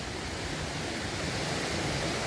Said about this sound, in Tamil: இந்த ஆற்றை கிராஸ் பண்ணி போனால் தான் அந்த அருவியை நாங்கள் ரீச் பண்ண முடியும்